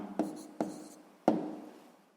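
Pen strokes on paper as a maths answer is written by hand: three short scratchy bursts, each starting with a sharp tap and trailing off, close and quiet with no talk.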